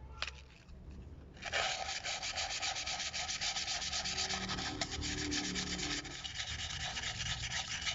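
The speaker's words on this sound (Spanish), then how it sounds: "Recuerden, es con la lija más delgadita." Fine 180-grit sandpaper rubs steadily against a brake drum on a Vento Xpress 15 motorcycle wheel, a close, continuous rasping scrape that swells after a soft start, with no talking.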